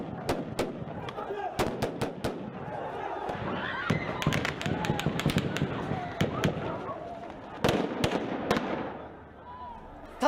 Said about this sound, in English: Afghan police fired live rounds in the air to disperse them.